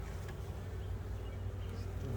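Steady low droning hum of many bees buzzing close by inside a horizontal observation hive, continuous and even throughout with no talking.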